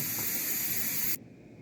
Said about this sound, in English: Steam coming out.